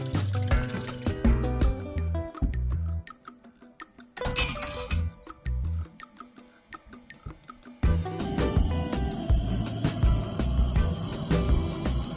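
Water is poured into a pot at a boondock campsite for coffee and oatmeal, with trickling liquid, clinks of metal and glass, pauses and a louder filling stretch near the end.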